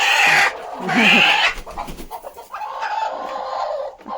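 Small-breed hens in a low-cost chicken shed cluck and squawk loudly up close, in several uneven bursts that overlap and trail off into softer mutters.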